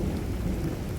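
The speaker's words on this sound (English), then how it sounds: "It's raining, more thunder." Heavy rain pours steadily during a thunderstorm, with a low thunder rumble filling the short stretch; it is loud, dense and continuous, with no voices.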